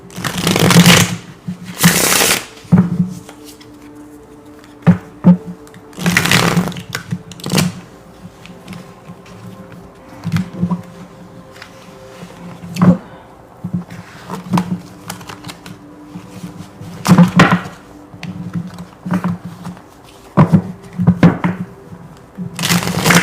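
Tarot cards shuffled by hand in repeated bursts of riffling and flicking, with short pauses between runs, close and fairly loud with no talking.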